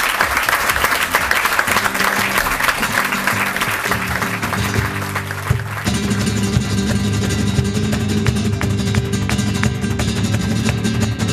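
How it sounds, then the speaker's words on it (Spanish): Audience applause for flamenco dancers on a stage in Salamanca: a dense, steady wash of clapping running throughout, which gives way to music with singing partway through. "Un aplauso para ellos."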